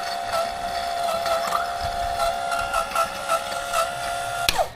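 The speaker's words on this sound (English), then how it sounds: "It can run dry, and it's a self-priming pump." Self-priming electric oil preluber pump running on a Mercedes E250 W212 with the OM651 diesel engine, a steady mechanical hum with a high tonal whine and light rhythmic pulsing, ending in a sharp click.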